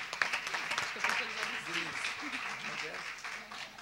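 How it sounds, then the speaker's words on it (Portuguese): A church congregation claps for Jesus during a service, clapping mixed with voices and cheering, fairly quiet and fading toward the end. "Vamos dar a Jesus uma salva de palmas."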